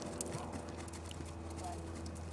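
A horse trots through a riding lesson, its hoofbeats a steady, fairly close clip-clop rhythm over an even background, with a voice talking over the footfalls.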